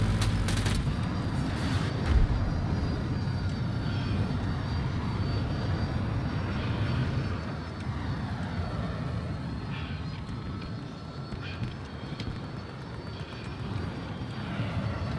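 A helicopter flies in the video game Battlefield 2042, a loud sustained engine and rotor roar with a steady low rumble that carries on for the whole stretch, loudest at the start, with a few sharp clicks and bangs on top.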